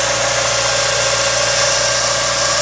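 A 1986 Mercury Cougar XR7 with a 2.3 turbo engine idles steadily, a loud, close, constant mechanical hum with a low rumble and a whining tone throughout.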